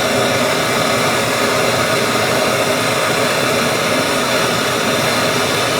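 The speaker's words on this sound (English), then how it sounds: "So first thing we're going to do is heat that up. We're going to use the same torch." A torch heats a thin Sako rifle extractor ring for soldering, a loud, steady, close roaring hiss of the flame that runs unbroken from start to finish.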